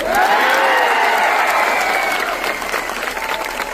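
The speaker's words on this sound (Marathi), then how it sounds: "टाळ्या अशा मरेलवाणी वाजायच्या ना" A crowd claps steadily at an outdoor protest rally demanding offline MPSC exams, a dense continuous wash of applause that thins slightly toward the end.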